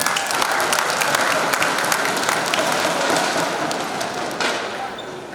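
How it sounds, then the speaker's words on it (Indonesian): An audience at an evening peace campaign declaration event in Malang applauds steadily for several seconds, a dense, continuous wash of clapping that fades slightly toward the end. "Tepuk tangan untuk kita semua."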